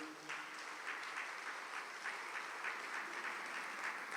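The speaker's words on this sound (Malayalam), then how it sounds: "ഒന്ന് കൈ ഉയർത്തി കൈയടിക്കുക." An audience at a church talk claps together, a dense, even patter of many hands that holds steady and fairly faint in a large room.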